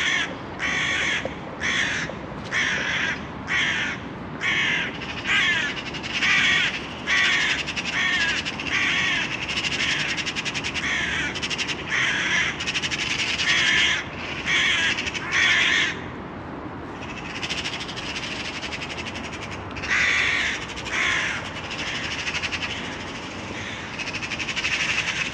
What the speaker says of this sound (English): the bird is saying something